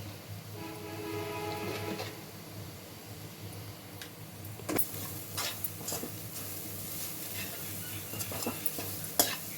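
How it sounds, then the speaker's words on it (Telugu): Spices fry in a pan for carrot rice, with a steady close sizzle and scraping stirring strokes running throughout. "బాగా వాసన పోయే వరకు వేయించుకోవాలి"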